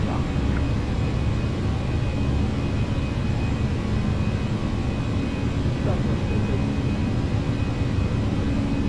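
Engine roar of a Fenix Airbus A319 during a flex takeoff from Las Vegas in a flight simulator, a steady, dense, loud drone throughout with a voice talking over it.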